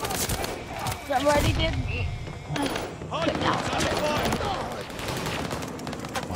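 Rapid bursts of video game gunfire crackle amid a chaotic firefight, with a player talking over the shots throughout.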